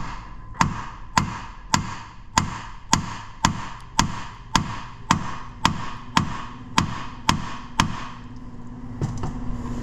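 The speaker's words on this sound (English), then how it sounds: "We get a hammer." Sharp metallic hammer blows repeat at an even pace, about fifteen strikes in a row, loud and close, with a ringing tone under them, during front strut replacement on a 2016 Audi Q3.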